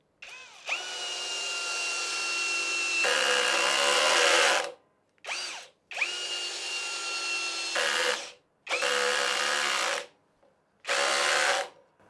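A Parkside PSBSAP 20-Li C3 cordless drill drives small screws in several separate bursts, each a loud, steady whine that rises as the screw seats, with short silent gaps between runs.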